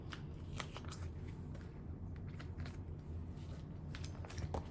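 Photo cards handled and put away while storing a collection, giving soft, close papery rustles and light card shuffling with small clicks scattered steadily throughout, no talking.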